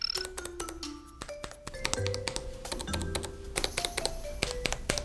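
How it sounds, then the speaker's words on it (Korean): Rapid clicky keystrokes on a mechanical keyboard, close by and crisp, in irregular bursts with a few brief pauses and no voices. "요즘 유행하는 기계식 키보드는 스위치 구조에 따라 서로 다른 손맛과 소리의 차이가 나는 것이죠"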